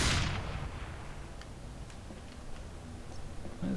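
The Force of Nature scattergun fires once during a jump in Team Fortress 2, a sharp loud blast at the very start that fades into a quieter tail with small ticks.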